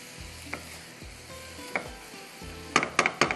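Turnip paratha masala filling sizzles softly in a pan while a utensil stirs it, with a few knocks of the spoon and a quick cluster of sharp taps near the end.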